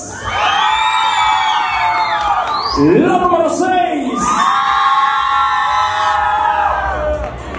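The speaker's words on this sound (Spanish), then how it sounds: "aplausos para la parejita número 3." A crowd at a norteño music contest in Fort Worth, Texas cheers and whoops for the dance couples, loud and sustained, with an announcer speaking over it partway through.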